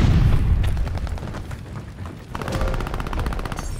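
Call of Duty: Vanguard gunfire from a fight at a hardpoint, with an opening boom followed by rapid automatic weapon bursts that rattle on steadily, with no voices over it.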